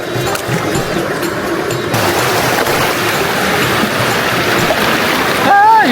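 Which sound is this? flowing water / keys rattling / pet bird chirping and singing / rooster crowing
flowing water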